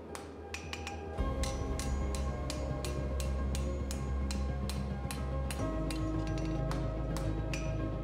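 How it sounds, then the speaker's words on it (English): A smith's hammer lightly forges the tip of a Viking broad seax blade, ringing in a steady series of sharp metallic strikes over a constant low roar of forge or machinery. "I am forging the tip over very lightly"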